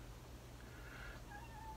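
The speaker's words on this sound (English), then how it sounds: "oh, hello, this is my cat" A house cat meows softly a couple of times in a quiet room, its short rising calls sitting over a steady low electrical hum.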